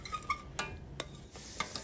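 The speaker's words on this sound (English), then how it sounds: "you want to keep on stirring until this comes to a boil" Vermicelli mixture stirred in a pot on the stove as it boils, giving soft scraping strokes and light bubbling close by, with a few brief clinks of the spoon against the pot.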